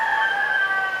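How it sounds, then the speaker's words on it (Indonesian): A rooster crows in a single sustained, steady call lasting about a second, fairly loud and clear, at around 3 a.m. "Suara ayam dong."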